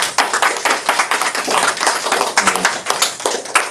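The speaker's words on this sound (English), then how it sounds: "Big round of applause to Mathaji." A room full of people applauds, dense overlapping claps at a steady moderate loudness, continuing throughout without talk.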